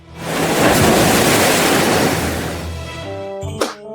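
Water splashing and wave-like rushing from a toy in a Lego superhero set, a loud broad whoosh that fades out and is followed by a few faint clicks.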